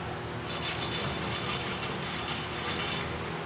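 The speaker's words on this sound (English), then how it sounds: "Take the wire brush." A wire brush scrubs silicon residue off a MIG weld bead, a steady, loud, close rasping scrape with fast repeated strokes and no pauses.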